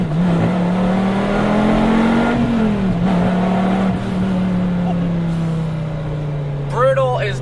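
A Dodge Viper engine drones loudly and steadily from inside the car, its pitch rising slightly then easing, with a brief tire or road noise near the end.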